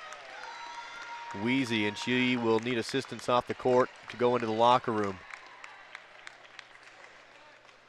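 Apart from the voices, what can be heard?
applause for injured basketball player Lau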